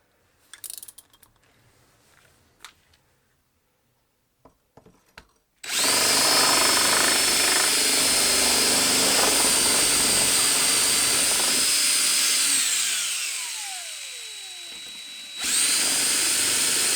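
Power drill bores dowel holes into a wooden board through a metal doweling jig, a loud steady whine running continuously for about ten seconds, then pausing briefly and spinning up again near the end; quiet handling before it.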